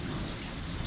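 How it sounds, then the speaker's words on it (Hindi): Heavy rain pouring down in a constant dense hiss, close and steady, with no talking. "घमसान बारिश हो रही"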